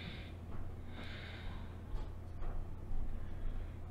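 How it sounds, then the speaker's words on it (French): A person breathes audibly while holding a beginner yoga pose, with a few airy breaths in and out over a low steady background hum and no talking. "Et on respire."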